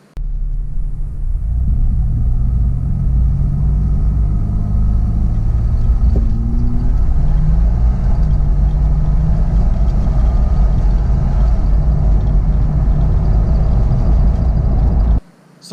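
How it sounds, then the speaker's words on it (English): GMC Typhoon revving and launching hard with boost building, a loud, close, continuous low engine rumble that holds for about fifteen seconds, then cuts off abruptly. "you can see this launch is definitely much better"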